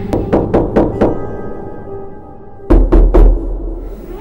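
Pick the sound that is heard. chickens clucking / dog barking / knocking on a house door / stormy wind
knocking on a house door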